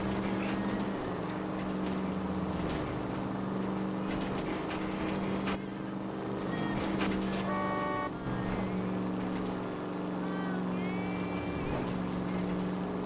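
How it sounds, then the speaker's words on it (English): Car engine whine and tire squeal in the video game LA Noire, a steady loud engine drone with brief screechy squeaks and a short horn-like toot midway, no talking. "Like you hear the car whine and squeak."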